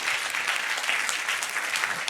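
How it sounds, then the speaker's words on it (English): A live audience at the EAT Forum 2019 Kitchen Stage claps in a dense, steady burst of applause that holds an even loudness throughout, with no talking over it. "give her a round of applause"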